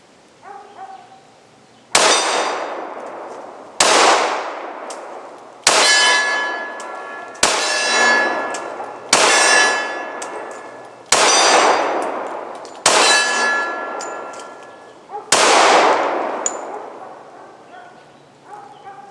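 Smith and Wesson M&P 45C pistol rounds striking steel targets at 15 yards: eight sharp, ringing metallic clangs at a steady, unhurried pace, each one decaying before the next, with no talk over them.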